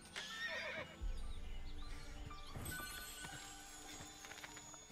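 Horse whinnying in Assassin's Creed 2, a loud, high neigh near the start over steady game ambience, with hoof clip-clop and other in-game sounds following.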